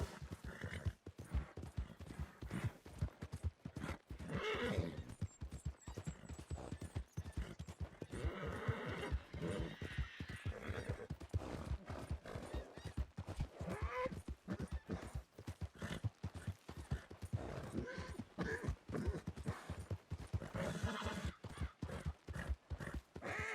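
Horse hooves clip-clop steadily at a run in a Red Dead Redemption 2 roleplay game, with occasional neighs and whinnies, continuous and close throughout.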